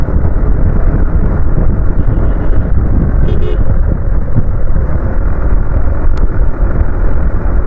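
A vehicle rides along a road on a cold winter morning with two people aboard, steady loud engine and road rumble mixed with wind buffeting the microphone throughout, a brief rattle midway.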